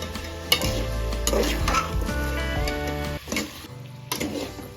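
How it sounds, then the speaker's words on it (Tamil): Vegetables for a South Indian village-style tamarind curry sauté in a pan, sizzling softly while a spoon stirs and scrapes against the metal in uneven strokes, close by, with no talking. "பழக்காயும் சேர்த்து கொஞ்சம் வதக்கியாச்சு"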